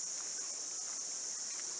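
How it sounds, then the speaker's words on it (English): Cicadas calling by a floodplain on the Savannah Way between Katherine and Kununurra in northern Australia, a steady high continuous drone at moderate level with no pauses across the whole stretch. "Here the cicadas as usual."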